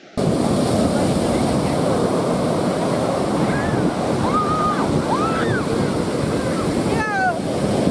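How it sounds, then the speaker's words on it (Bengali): Rough sea surf at Puri beach in Odisha after Cyclone Fani, a steady, loud roar of breaking waves with wind buffeting the microphone throughout and a few faint high whistles or calls over it. "সমুদ্রের অবস্থা খুব খারাপ,"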